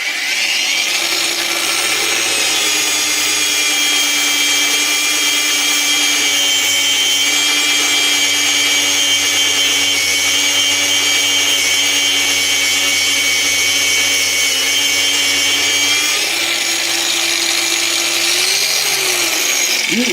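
A Heimerdinger LB184 cordless angle grinder runs at its second speed through gentle, light-pressure grinding, a loud sustained whine with a steady motor hum that dips briefly near the end before spinning back up.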